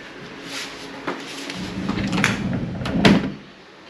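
A wooden sliding barn door in a house under construction in the Philippines rolls open along its track, a soft rumbling slide building over a few seconds and ending with a light knock, recorded close up.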